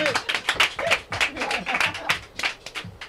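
A small group claps in uneven, fairly close bursts for a guest on a b-boy broadcast show, with sharp irregular hand claps and brief gaps between them.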